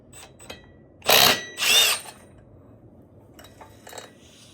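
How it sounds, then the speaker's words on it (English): A 1/4-inch impact wrench works a 5/8 bolt off a 1991 Polaris Trail Boss 250 four-wheeler near the clutch, giving two loud, close bursts of hammering rattle, with faint clinks from tools before and after. "I'm gonna see if the 1/4" impact gets it"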